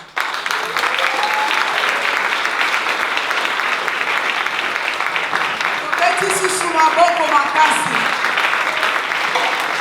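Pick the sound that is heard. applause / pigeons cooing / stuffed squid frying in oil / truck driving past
applause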